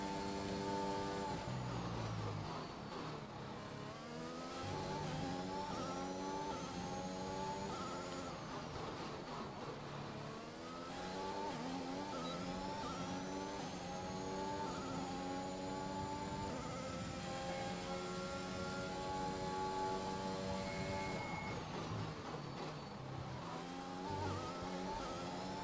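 Formula 1 race car from the F1 2021 video game lapping the Baku street circuit in Azerbaijan, a steady, loud engine drone with rising and falling gear-shift sweeps throughout, no talking.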